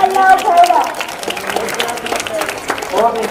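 Applause at a school Independence Day program, many hands clapping in a busy hall with children's voices and talk mixed over the steady patter.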